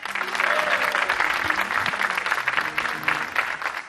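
A studio audience on a Moroccan talk show cheers and applauds steadily, a dense, loud wash of clapping and voices that stays full for the whole stretch.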